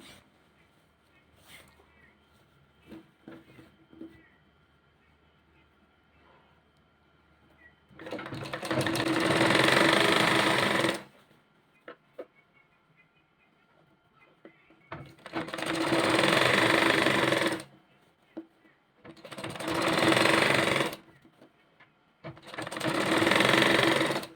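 Sewing machine stitching elastic onto a salwar waistband, four loud sustained runs of fast whirring stitching with short quiet gaps and faint handling noises between them.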